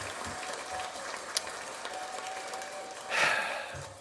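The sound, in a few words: applause sound effect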